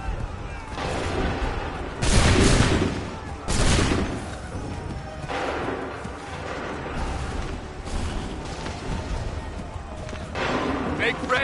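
Musket volleys and artillery in an Assassin's Creed III battle, several loud crackling bursts of massed gunfire with booming rumble between them, spread over a noisy battlefield din while shouted commands are heard throughout.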